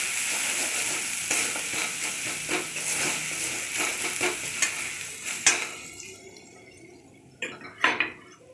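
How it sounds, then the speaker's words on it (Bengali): Ginger and garlic fry in a pan with a steady, close sizzle for several seconds, which then thins out into scattered crackles and a few stirring scrapes. "আদা রসুনটা আমি একটু ভেজেই দিলাম।"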